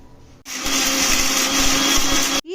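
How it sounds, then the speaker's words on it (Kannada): An electric mixer grinder whirs loudly and steadily for about two seconds, grinding masala with grated coconut, turmeric and hog plum for a Havyaka-style village recipe, starting and stopping abruptly. "ಇದನ್ನು ಮಿಕ್ಸರ್ಗೆ ಹಾಕಿ ನೈಸಾಗಿ ರುಬ್ಕೊಳ್ಳೋಣ"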